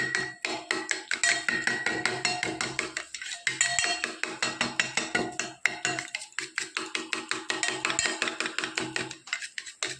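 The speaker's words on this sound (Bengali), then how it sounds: "ভালো করে চামচ দিয়ে ফাটিয়ে নেব।" A spoon beats sour curd in a bowl, making rapid, continuous clinking and tapping strokes at an even, brisk rhythm, close and clear with no talking.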